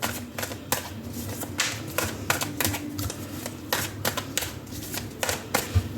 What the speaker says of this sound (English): I will be live shuffling the tarot and the oracles.